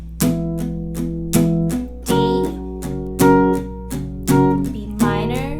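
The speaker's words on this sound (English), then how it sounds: "So all together with the accents, the palm muting, and that little walk down, it'll sound like this." Acoustic guitar strummed through a song's chords with palm muting, accents and a short walk-down, steady rhythmic chords with sharp percussive attacks and ringing sustain, close and clear with no voice.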